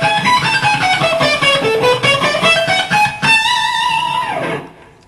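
Electric guitar lick with sweep picking high on the neck, fast rippling arpeggiated notes cascading up and down with a mildly driven tone, ending on a sustained bent note that fades out.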